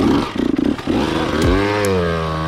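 A Yamaha YZ125 two-stroke dirt bike engine revs in first gear, close and loud, with a few choppy blips followed by a rising, sustained high-pitched wail as the throttle opens.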